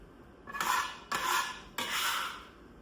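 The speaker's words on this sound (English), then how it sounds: "Onions are going in." Chopped onions are scraped into a crockpot in three quick bursts, each a rustling clatter of pieces tumbling in with a utensil scraping the container, close and fairly quiet.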